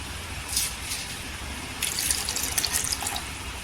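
Water runs and splashes steadily into a mixer jar holding ground beetroot for a few seconds, growing slightly louder and more turbulent toward the end.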